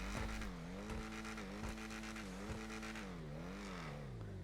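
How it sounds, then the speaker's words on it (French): A car engine in a video game revs continuously up close, its pitch climbing and dropping through repeated gear-like sweeps, with a few sharp thumps mixed in. "Alors vraiment, je kiffe le bruit de cette voiture."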